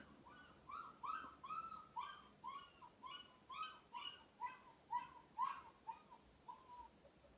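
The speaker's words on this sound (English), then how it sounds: "So if you can hear that, that's a dog that they've just put outside." A neighbours' dog outdoors barks and whimpers in a steady series of about a dozen short, evenly spaced calls, faint and distant, with no talk over it.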